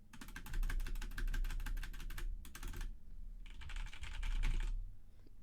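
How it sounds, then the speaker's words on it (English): Fast, clacky typing on a loud Razer Huntsman keyboard, dense keystroke bursts up close that stop briefly twice before resuming. "You guys have heard my keyboard a lot."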